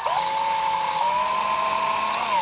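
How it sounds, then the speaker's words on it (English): Power drill boring pilot holes in wood, a loud, steady high-pitched whine with a slight pitch dip partway, continuous and close, no talk. "I'm going to drill a couple of holes,"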